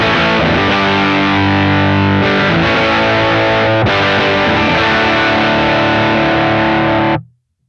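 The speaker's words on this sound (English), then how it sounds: "Tweed Vibrolux full" An electric guitar through a Kemper Tweed Vibrolux amp model, turned full, plays distorted sustained chords with a thick, saturated tone, ringing steadily for several seconds before cutting off.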